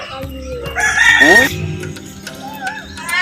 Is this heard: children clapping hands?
no